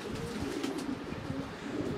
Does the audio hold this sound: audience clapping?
no